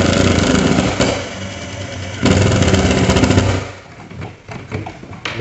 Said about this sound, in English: You want to go until you hear it starting to impact again.